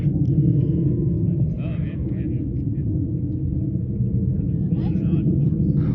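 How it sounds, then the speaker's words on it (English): A deep, steady rumble of a jet airplane fills the clip, loud and continuous, with faint higher sounds flickering above it. "I think it was some sort of jet."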